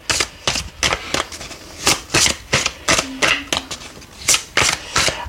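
Oracle cards from a Marie Reine des Anges deck are shuffled by hand in quick, crisp riffling bursts, close up, with a few short pauses and no talk.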